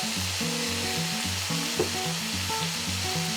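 Potatoes and butternut squash tipped into a sizzling pot of beef picadillo, a steady hiss of frying with a small splash as the vegetables land, over a rhythmic musical backing.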